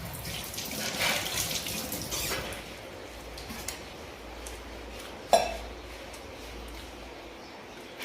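Water runs from a household tap supplied by a borewell motor, a soft steady stream with a faint clink partway through and no speech.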